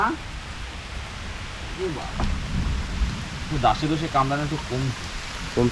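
Rain pours down during an outdoor fishing trip, a steady hiss of falling water, while a voice talks over it in the second half.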